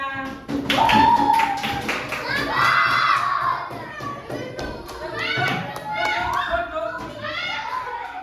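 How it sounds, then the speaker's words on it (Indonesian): Children in an Indonesian classroom clap and cheer for a group of classmates, with rhythmic taps and thuds under lively shouting and chatter that carries on throughout. "Tepuk tangan untuk kelompoknya"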